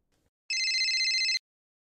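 A phone rings once on an outgoing call, a single bright electronic trill just under a second long, clear and close against silence.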